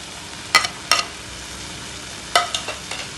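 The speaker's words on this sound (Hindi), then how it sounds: "शिमला मिर्च को मैंने अलग से नहीं भुना था, तो इसे अभी मसाले के साथ ही भुनेंगे ताकि ये टेंडर हो जाए।" Capsicum and grated ginger frying with spices in a pan for a Jain-style mixed vegetable dish, a soft continuous sizzle punctuated by several sharp scrapes and taps of a spatula against the pan.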